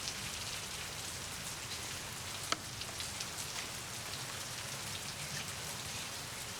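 Steady rain falls outdoors in a dense, even hiss that holds without pause, with one brief sharp tap partway through and no voices.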